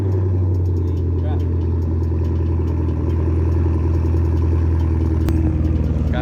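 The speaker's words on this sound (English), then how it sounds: "so it's gonna be a really loud cold start" A loud 1999-2004 Ford Mustang GT engine cold start rumbles steadily right up close, a deep low drone with clattering mechanical noise on top, running throughout without a break.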